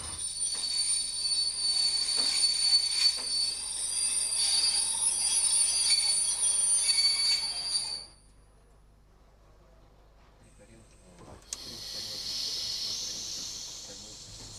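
A passenger train crossing the Ukraine-Slovak border rolls on its rails with a sustained high metallic wheel squeal for several seconds, then drops to a quiet rumble before a brief hissing screech returns.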